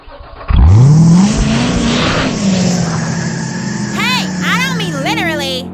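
Cartoon car engine revving up loudly with a rising whine, settling into a steady drone, then a few quick chirpy sound effects near the end, in a cartoon parody.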